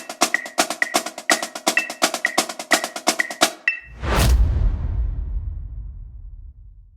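A snare drum plays a flam accent exercise in 4/4, with crisp, evenly spaced strokes and accented flams in a steady pattern. A single crash then rings out and fades.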